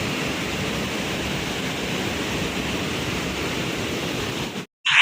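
Waterfall below the Jatmai temple pouring steadily, a loud, even broadband rush close by that holds constant before cutting out briefly near the end.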